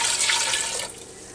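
Chicken broth poured from a container into a pressure cooker, a steady close splashing pour that tapers off near the end, with no talking.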